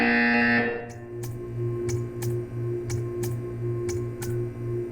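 Repeated short buzzer pulses in the Portal video game, sounding roughly every half second to second against a steady low mechanical hum, after a brief louder tone at the start.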